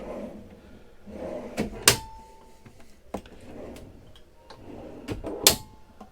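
Drawers in a McLouis Fusion 367 motorhome are pulled out and pushed shut, giving several soft sliding rumbles punctuated by sharp clacks and a light metallic ring, close by and without talk.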